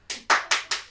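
Four hand claps from a small group during an art class, evenly spaced and crisp, each with a sharp attack and brief decay, close and fairly loud with no talk over them.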